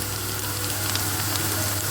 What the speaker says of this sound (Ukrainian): смажаться мої котлетки